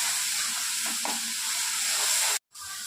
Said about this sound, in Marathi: ह्याला आपण छान फ्राय करून घेणार आहोत, कारण की आपण कांदा आणि टमॅटो कच्चा घेतलेला आहे.